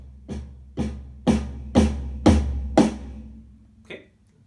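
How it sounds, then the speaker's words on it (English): Drums build up in a crescendo: six heavy hits on snare and low tom, growing louder and evenly spaced, followed by one lighter final tap. "The big building up crescendo on the snare plus low tom,"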